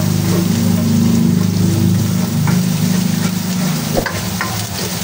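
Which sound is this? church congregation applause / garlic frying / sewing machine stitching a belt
garlic frying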